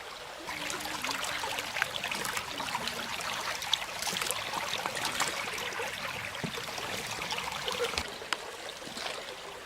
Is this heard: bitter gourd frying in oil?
no